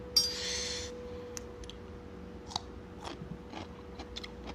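Crunchy chewing while eating Thai som tam with crab: a brief rustling burst, then close, scattered crisp bites and crunches at an unsteady pace.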